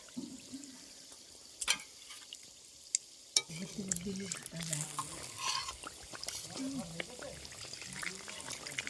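Jaggery oil pitha fry in hot oil with a steady, soft bubbling hiss. Sharp pops break through near the start, and low voices murmur faintly underneath.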